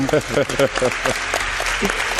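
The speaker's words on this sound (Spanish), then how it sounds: "Un aplauso os pido para él" A voice speaks loudly over a continuous wash of applause from an audience, the clapping carrying on after the speech stops.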